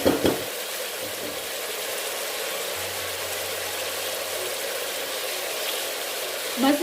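Chicken frying in a pot with bay leaf, cardamom and cinnamon for degi korma: a steady, even sizzle hisses close up throughout, with a faint clink at the start and end.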